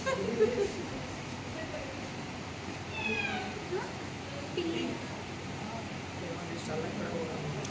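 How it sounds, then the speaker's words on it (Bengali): A jungle cat at a zoo meows a few times, drawn-out cries rising and falling mid-clip amid a busy outdoor background of murmuring visitors. "এটা হচ্ছে, এটা জঙ্গল ক্যাট।"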